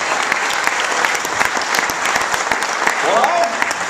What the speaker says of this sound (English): Let's give Jim a giant round of applause.